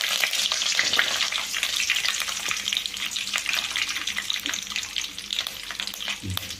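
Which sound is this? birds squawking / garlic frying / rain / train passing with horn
garlic frying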